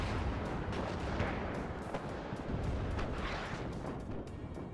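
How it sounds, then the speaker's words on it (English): Artillery fire in the video game WARNO, with dense overlapping booms and rumbling blasts pounding a front line in quick succession, loud and continuous. "There it goes, the artillery now being utilized to hit that front line."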